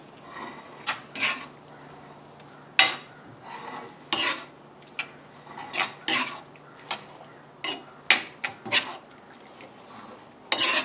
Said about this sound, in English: Want to make sure you blend it well, mix it well.